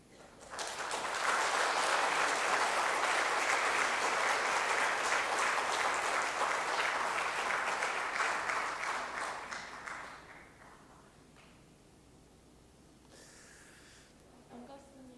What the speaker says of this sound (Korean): 박수로 이렇게 맞이해 주셔서